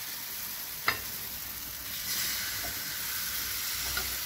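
Sweet crepe batter sizzles steadily in a frying pan, a soft continuous hiss with a brief clack near the start and faint utensil touches later, no voices.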